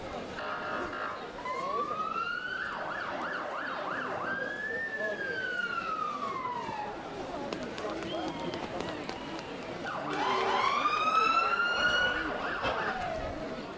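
Cavan County Fire Brigade fire engines sound wailing sirens while passing in the Cavan Town St Patrick's Day parade, rising and falling tones repeating, louder toward the end, over outdoor crowd noise.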